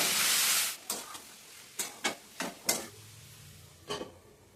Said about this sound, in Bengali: এখন আমি নেড়ে চেড়ে ভেজে নেব